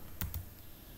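Two quick, close computer keyboard keystrokes while typing a command, sharp and clear against faint background hiss.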